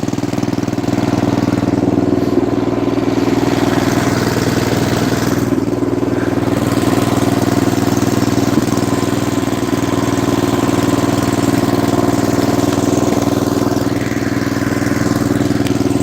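A snowblower engine runs continuously with a steady mid-pitched drone and slight surging, its throttle slipping down on its own; loud and close, with no talk.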